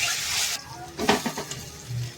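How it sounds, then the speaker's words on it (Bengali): Chopped tomato and garlic-chilli paste are stirred in a frying pan: a soft sizzle broken by spoon scrapes and wet stirring bursts, close and moderately quiet, with a faint hum beneath. "তারপরে দিয়ে দেব টমেটো কুচি, আর 3-4 মিনিট মতো আমি ভালো করে নেড়ে ছেড়ে নেব"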